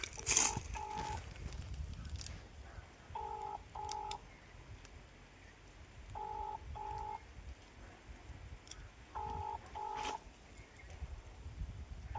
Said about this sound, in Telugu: నిమ్మికి ఫోన్ చేద్దాం, శివగారిని పంపించమని చెప్దాం.